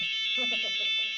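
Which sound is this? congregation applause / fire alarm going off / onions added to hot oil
fire alarm going off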